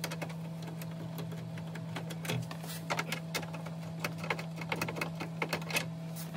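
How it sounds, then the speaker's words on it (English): Screws being backed out of the gauge cluster panel on an OBS Ford truck, with a faint steady hum and soft, irregular clicking and ticking of small hardware, quiet and close. "Let's get these two screws out."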